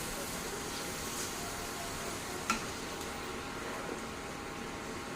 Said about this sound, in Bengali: জল দিয়ে ভালো করে ভেজে নেবো